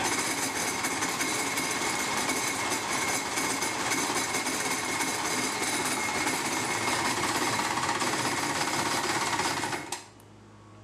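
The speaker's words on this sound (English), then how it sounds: "It's filling the fuel separator, so we'll just keep cranking with the choke on." A 1995 Polaris SLX 780 jet ski engine cranks continuously with the choke on, a fast, rattling mechanical chatter at steady level that stops abruptly near the end.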